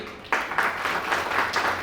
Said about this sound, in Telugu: అందులో క్లాప్స్ కొట్టండి వాళ్ళకి